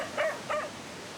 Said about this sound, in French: Il est gueulard comme le maître, le chien